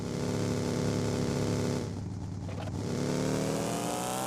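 A buggy's engine in a video game drones with a steady, harmonic-rich whine that briefly dips and roughens, then climbs back to a sustained rev, loud and unaccompanied.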